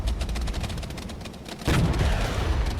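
Gunfire from units moving across the field in the video game Regiments, a rumbling bed of distant rattling shots that swells into a louder, heavier volley partway through.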